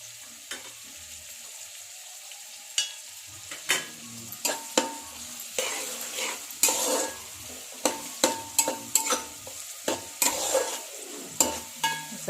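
Onions being stirred with turmeric in a pan, a steady frying sizzle broken by a long run of regular utensil scrapes and taps against the pan, close and fairly loud, with no talking.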